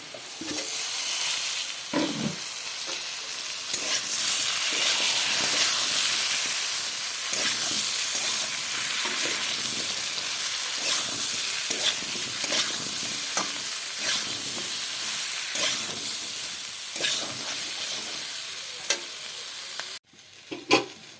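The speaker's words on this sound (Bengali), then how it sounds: "এখন কেটে রাখা বেগুনগুলো ঢেলে দেবো" Cut eggplant and potatoes frying in oil in a pan for a chapila fish dish, a steady bright sizzle with stirring scrapes throughout, close and loud, ending with a brief clatter.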